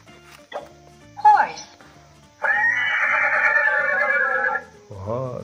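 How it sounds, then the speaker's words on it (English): Horse whinny played from a talking flash card toy: a short electronic voice announcing the card, then a tinny, shrill neigh lasting about two seconds, followed by a brief clip-clop-like tail and more toy speech. "Horse. Horse."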